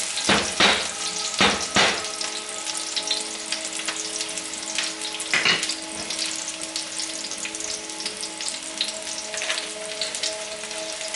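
Jalapeño and green onion sauté in a hot pan, giving a loud, continuous sizzle up close, broken by a few sharp clatters of stirring near the start and midway.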